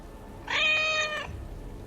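A single drawn-out meow from a small cat inside the fantasy role-playing game Dragon Age: Origins – Awakening, clear and fairly close, rising then fading over about a second against quiet ambient game sound.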